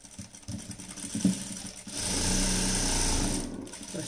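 Sewing machine stitching underwear cloth during tailoring, a steady mechanical whir that runs in a sustained burst after a short start, loud and close, with a little speech nearby.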